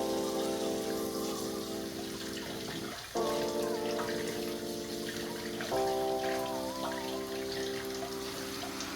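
Water runs steadily from a kitchen faucet while pork chops are washed in the sink, a close, constant splashing rush that changes pitch twice as the flow shifts.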